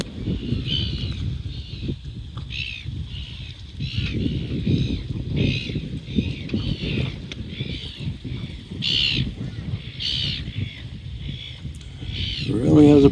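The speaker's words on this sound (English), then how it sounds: "Seagull there is not happy with that eagle." A seagull calling at an eagle on the Whitsunday Islands coast in Queensland, with repeated harsh squawks scattered over a steady low rumble of wind or engine noise, the calls fairly close and loud.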